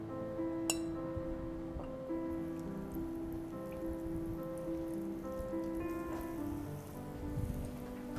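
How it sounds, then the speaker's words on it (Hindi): A second batch of french fries frying in hot oil, a steady close crackle and sizzle of fine bubbling with occasional light clinks, no talking. "जो हमारा दूसरा बैच था उसे भी फ्राई कर लेंगे।"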